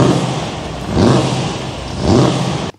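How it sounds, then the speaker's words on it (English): A 1500-horsepower supercharged Holden VL Calais engine roars loud and close, swelling in two heavy revving surges over a constant harsh growl before cutting off abruptly. "1500 horsepower blown VL Calais."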